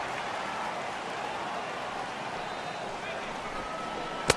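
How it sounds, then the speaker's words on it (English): Heavy rain pours steadily onto a baseball field in the MLB The Show 18 video game, a dense, even hiss throughout with a brief sharp click at the very end. "Really starting to pour now, and the forecast is not showing any signs of a break in the weather."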